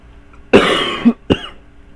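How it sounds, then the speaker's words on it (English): Two harsh coughs, one long and rasping followed by a short sharp one, close and loud against near silence. "Apologize for the coughing, y'all."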